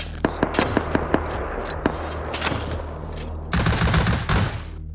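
Gunfire in the survival game Rust crackles in rapid, sharp shots and bursts, close and loud, with a denser, heavier volley near the end.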